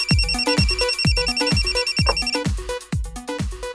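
A telephone rings in a steady repeating electronic pattern as a call connects to a radio call-in show, loud and close with no talking.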